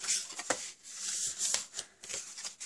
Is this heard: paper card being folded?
yes